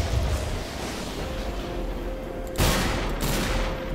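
Gunfire in Garry's Mod crackles in a dense rapid burst under steady background noise, with a louder volley near the end.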